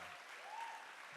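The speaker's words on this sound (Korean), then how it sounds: "박수 한번 주세요." Audience applause at a Korean talk show taping, a brief, faint, steady patter of clapping.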